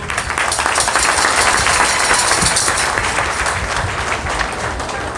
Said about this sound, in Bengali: প্রভুর জন্য একটা করতালি হোক।